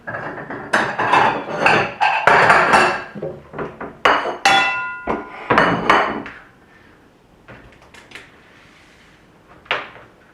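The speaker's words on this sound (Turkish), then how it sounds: "Böyle marullarım var. Daha önce yıkayıp kuruttum. Bunu doğrayalım." A series of sharp, rapid knife chops through washed lettuce on a cutting board, loud and close, bunched in quick bursts, then a few scattered cuts and quiet.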